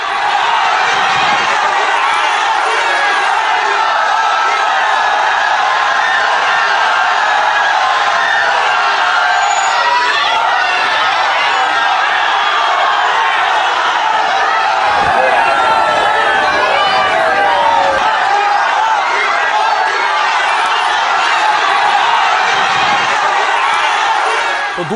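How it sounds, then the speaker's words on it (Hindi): Thousands of people cheer along the streets at Prime Minister Modi's road show in Barrackpore, a dense, unbroken roar of cheering and chatter with a voice talking over it. "प्रधानमंत्री को देखने के लिए हजारों की भीड़ थी सड़कों पर"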